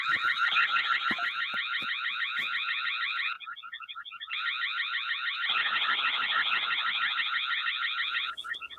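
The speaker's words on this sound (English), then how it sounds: "there is an alarm that can be set off as well" The siren of a Tapo C460 or C465 security camera blares as a loud, rapidly warbling electronic alarm. It cuts out briefly once, then resumes and runs on close and steady.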